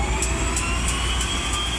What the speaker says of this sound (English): The characteristic whine of the turbine otters and beavers